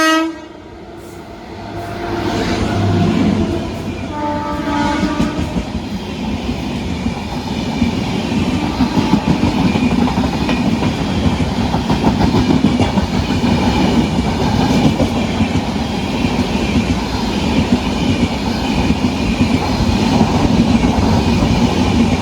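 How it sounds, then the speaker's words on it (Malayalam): The Garib Rath Express from Mumbai LTT to Thiruvananthapuram North runs through Trikaripur railway station at speed without stopping. Horn blasts open the pass, then a loud, sustained rushing rumble and rhythmic wheel clatter carry on to the end. "മുംബൈ LTT നിന്ന് തിരുവനന്തപുരം നോർത്തിലേക്ക് വന്ന ഗരീബ് രത്ത് ഇപ്പം നമ്മളെ തൃക്കരിപ്പൂർ സ്കിപ്പ് അടിച്ചിട്ട് പോകും"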